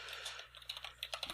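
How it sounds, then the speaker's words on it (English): Rapid, furious typing on a computer keyboard, a dense run of close, crisp key clicks with uneven bursts and no talking. "The sound of furious typing."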